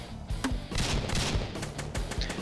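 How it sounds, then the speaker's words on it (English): An assault rifle fires in the video game Hordelicious: a rapid string of close, punchy shots with short gaps and game effects mixed in, moderately loud, no talking. "You start out with the assault rifle shown here"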